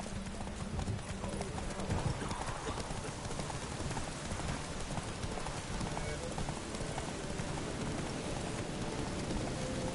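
Hoofbeats of racing horses in a PS4 video game, a steady dense clip-clop rhythm running throughout over a rain-like hiss, with faint speech in the background.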